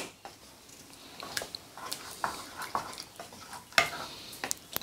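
Spoon stirring chocolate as it melts into hot milk, a run of soft, scattered scrapes and light taps at a steady, unhurried pace, fairly quiet and close with no voice.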